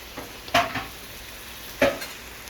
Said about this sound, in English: And this is where you want to start using your whisk.